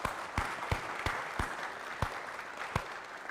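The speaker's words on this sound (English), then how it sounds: "give a nice round of applause to our Vietnam vet and our Korean vet right here." Scattered, slow hand claps from a small group at an Independence Day celebration, each clap distinct and evenly spaced, moderately quiet with no speech.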